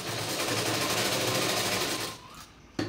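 Sewing machine stitching doubled cloth for a blouse neckline, a steady, close mechanical whir with rapid needle rhythm that stops abruptly near the end, followed by a brief click.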